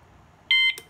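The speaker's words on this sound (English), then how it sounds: "If you hear the 3 sound, this wireless siren will reset." Wireless alarm siren giving a single short electronic beep while being programmed with a wireless module, a clean tone lasting about a fifth of a second, followed by a brief click, in a quiet room.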